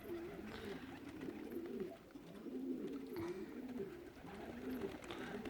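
Pigeons coo in soft, repeated rolling calls, several birds overlapping at close range against a faint outdoor background.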